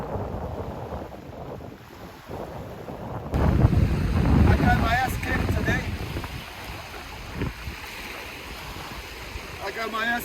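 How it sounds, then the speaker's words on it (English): Wind gusting over a lake while wingfoiling on a Gong HIPE 5'5 inflatable board in light 6 to 7 knot breeze: steady rushing buffeting against the microphone that swells louder partway through, with faint water sloshing. "The wind is on about 6 to 7 knots."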